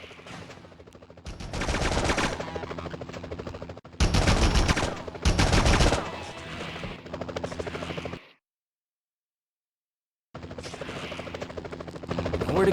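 Helicopter-mounted gunfire in the Spider-Man 2000 video game, loud rattling bursts of repeated shots over a rotor drone, broken by a short silence before resuming.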